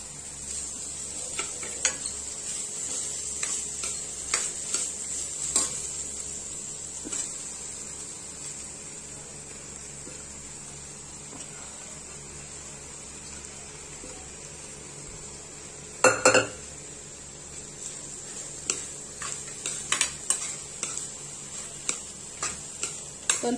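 Navane and pea pulao being stirred and frying in a pan, with a low steady sizzle and scattered light scrapes and taps of a utensil against the metal.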